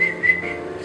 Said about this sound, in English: You know how to whistle and snap and whistle with your teeth.